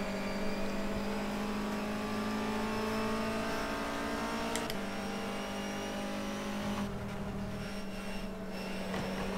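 A Honda Civic race car at Silverstone in rFactor 2 drones with a steady engine whine, shifting pitch as the throttle lifts and gears change, with no talking.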